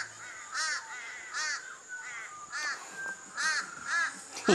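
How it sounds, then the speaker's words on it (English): Several crows caw repeatedly at a beach, harsh calls coming in irregular bursts with some overlapping, fairly close and loud against quiet surroundings. "there's a crow in amongst them"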